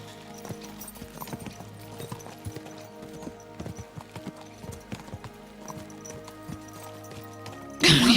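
Horses gallop at speed in the medieval game Kingdom Come: Deliverance II, giving a steady run of hoof clip-clops at moderate loudness, with a burst of louder noise at the very end.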